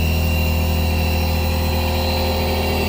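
A Roots blower feeds air to a PP melt-blown filter cartridge production line, giving off a loud, constant industrial drone with steady tonal hum and dense machine noise, unbroken throughout.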